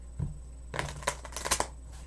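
A brief, close burst of tarot cards being shuffled, a few quick papery riffles over a low steady hum.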